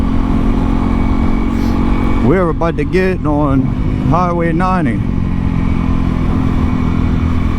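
Honda CRF300L motorcycle fitted with a MotoX exhaust, heard from the rider's position while cruising near highway speed in wind. The engine drones loudly and steadily, with a couple of brief revs rising and falling midway, and the rider talks over it.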